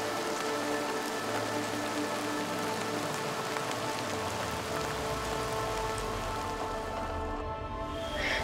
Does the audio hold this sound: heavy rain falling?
yes